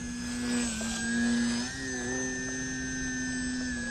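RC model airplane flown aggressively in 3D aerobatics, its electric motor a steady high whine that bends in pitch as the throttle and attitude shift, fairly distant and alone.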